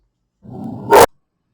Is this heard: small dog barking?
yes